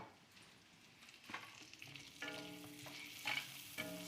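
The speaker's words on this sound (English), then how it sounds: "So you just saute it for me, 3 minutes to 5 minutes will be fine." Carrots sauté in butter with crushed pepper, a quiet sizzle under intermittent stirring and scraping in the pan, with several louder clatters of a utensil near the middle and end.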